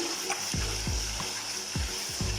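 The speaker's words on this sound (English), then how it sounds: "You can see that the thing is really boiling" Turkey stew boiling hard in a pot, a steady bubbling sizzle with several low, irregular gurgling pops close by.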